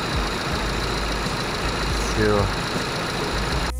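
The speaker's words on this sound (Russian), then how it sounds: "Ну вот сейчас посмотрим, погрею двигатель, посмотрим, как заработает." An Opel Astra J engine idles while warming up after a thermostat replacement, a steady low rumble with a faint rise partway through, as someone speaks briefly over it.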